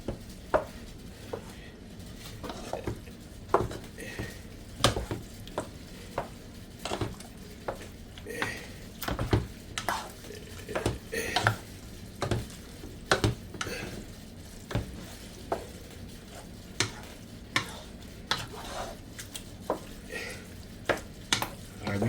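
A utensil stirs a baked spaghetti mixture in a pot, producing repeated knocks and scrapes in an uneven rhythm over a faint cooking hiss, with no voices.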